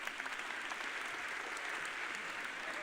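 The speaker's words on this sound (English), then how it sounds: "We give her the round of applause, please." Steady audience applause filling a hall, dense clapping at even strength throughout with no voices over it.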